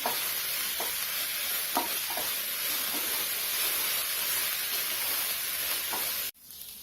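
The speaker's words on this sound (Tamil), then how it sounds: "இப்போ இதில் இஞ்சி பூண்டு பேஸ்ட்டை ஆட் பண்ணிடலாம். ஆட் பண்ணி நல்லா மிக்ஸ் பண்ணிக்கோங்க." Ginger garlic paste frying in a hot pan for vada curry, a steady loud sizzle with occasional soft spatula scrapes as it is mixed, cutting off abruptly near the end.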